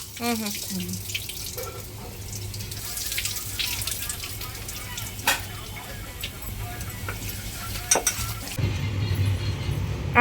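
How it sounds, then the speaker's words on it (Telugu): Tamarind being washed by hand in a bowl of water in a home kitchen, with a steady soft sloshing and dripping, a few sharp clinks, and a louder surge of running water near the end. "చింతపండు కడుగుతున్నా"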